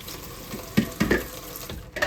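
Two pounds of dried red beans being rinsed under a running kitchen tap for old-school crockpot red beans; close splashing water with a few louder spurts as the beans shift, and no talking.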